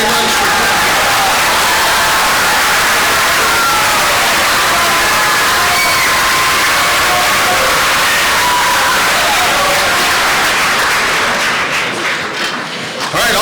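A large audience at a school assembly in Proctor applauds visiting guest teachers, dense and loud clapping and crowd noise that continues steadily and eases slightly at the very end.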